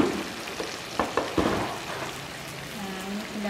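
Pieces of manyung fish mangut go into a pan of simmering spicy sauce with tofu and tempeh, giving a steady bubbling sizzle broken by a few soft splashes and stirring knocks.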